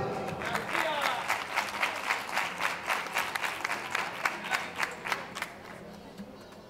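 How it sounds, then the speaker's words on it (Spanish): Audience applause at a live acoustic concert during a 2015 book fair, steady clapping from a crowd that builds and then thins out toward the end. "Un fuerte aplauso."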